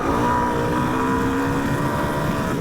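Suzuki DR-Z4S dual-sport motorcycle engine held in 2nd gear, a loud, steady droning rev that climbs continuously toward the limiter over wind buffeting, with no talk.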